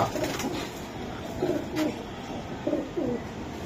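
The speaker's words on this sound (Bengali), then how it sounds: "দর্শক, এই যে আর একটা কবুতর" Pigeons kept for sale coo close by, several soft throaty coos in short rolling bursts against a quiet background.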